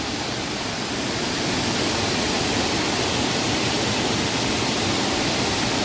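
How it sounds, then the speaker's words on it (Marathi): Rain-swollen floodwater rushes steadily and loudly after heavy rain, a constant broadband roar like a swollen stream, with no voices. "किती जोरात पाणी वा वाहत आहे ते बघा"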